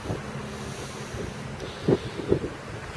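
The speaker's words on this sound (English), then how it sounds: "Here comes the wind." Wind gusting and buffeting a microphone outdoors beside a welding table where steel was being cut, a steady low rumble with two brief stronger bursts near the end.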